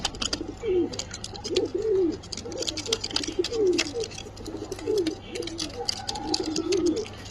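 A pair of white pigeons, one male and one female, coo in repeated soft rolling phrases roughly every second, close and fairly loud over a faint steady hum.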